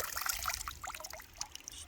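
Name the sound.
water poured out of a gold pan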